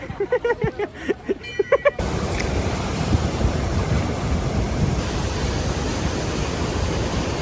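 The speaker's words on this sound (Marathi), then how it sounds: "एवढं जोरात पाणी चालू आहे ना" Strong, heavy water flow at Bhandardara in the rain, a loud continuous rushing roar that fills the space. It follows a short stretch of someone speaking.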